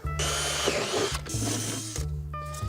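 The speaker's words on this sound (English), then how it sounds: "I'm just gonna drill through and bolt it to it" A power drill whines steadily at close range, its motor pitch rising and dipping in three bursts as it bites through a snowboard.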